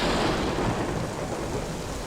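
Rain falling in the video game Shenmue, snow having just turned to rain, a steady, full wash of rainfall with a low rumbling undertone, continuous and fairly close.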